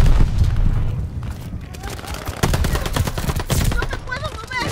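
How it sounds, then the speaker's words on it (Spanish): Rapid gunfire bursts and booming explosions from an airstrike in the shooter game Call of Duty: Vanguard and Warzone, loud and continuous throughout, mixed with in-game voices. "Objetivo para el ataque aéreo marcado. ¡Hagamos ruido!"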